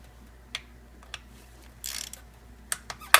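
Torque wrench or ratchet working on the valve cover bolts of a Toyota 1ZZ engine, giving sparse, sharp clicks and a short burst of ratcheting against a quiet garage background, with no talking.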